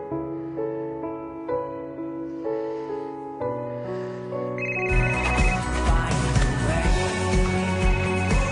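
A telephone rings over background music in a French comedy film, its repeated electronic ringtone sounding clearly before the music swells louder partway through.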